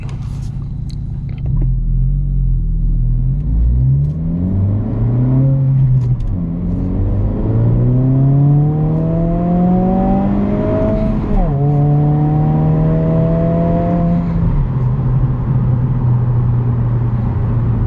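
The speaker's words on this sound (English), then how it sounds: "Here's some burbles from the exhaust." A 2022 Honda Civic Si engine in sport mode rises in pitch through gears as it accelerates, with low rumbling exhaust burbles underneath; no talking.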